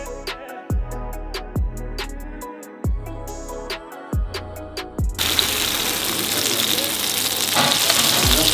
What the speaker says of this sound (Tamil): நெக்ஸ்ட் வந்து நான் நாக்கு மீன் வந்து ஃப்ரை பண்ண போகிறேன்